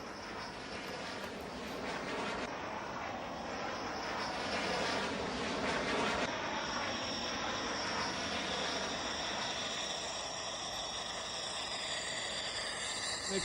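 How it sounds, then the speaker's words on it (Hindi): A Rafale fighter jet touches down on a runway. The engine roar is steady and fairly distant, a sustained wash of noise with a slight shift partway through, and no voices. "देखिए किस तरह से ये फाइटर जेट टच कर रहा है"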